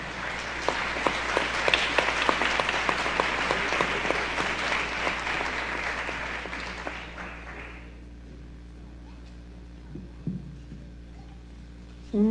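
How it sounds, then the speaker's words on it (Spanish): An audience at an international seminar in Chiapas gives a speaker warm applause, dense steady clapping for about eight seconds before it fades into near silence with a few faint sounds. "le damos un fuerte aplauso"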